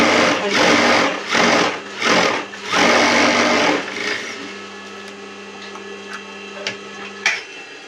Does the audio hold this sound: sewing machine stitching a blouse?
yes